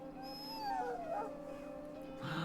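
A sick dog in the game Dragon Age: Origins whimpers and howls with thin, wavering high-pitched whines over a steady low game-music drone, the cries rising and falling across the moment.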